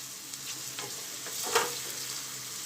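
Onions sizzle in a pan over a medium gas flame, a soft continuous crackle with a brief louder stir-like burst midway.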